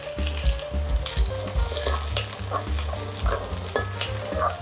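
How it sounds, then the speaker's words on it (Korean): Garlic fries in a spoonful of oil, a close, crackling sizzle with rhythmic scraping and knocking of a utensil against the pan; no talking. "마늘을 구워주는데 기름 한 숟가락만 넣어주세요."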